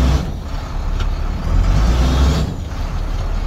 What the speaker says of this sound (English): Big old diesel.